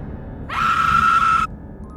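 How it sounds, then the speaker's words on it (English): Two sisters let out a sudden, loud high-pitched scream lasting about a second during a dramatic horror audio story, cutting off abruptly against a quiet background. "The sisters barely had time to scream."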